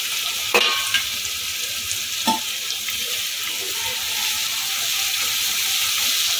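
Spices for vegetarian chana masala frying in a pan over high heat, a steady hissing sizzle with a couple of sharp clinks from the utensil early on, no talking.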